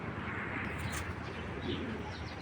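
Racing pigeons on a farm coo softly and repeatedly beneath a steady background hiss, the low murmuring calls staying faint and continuous throughout.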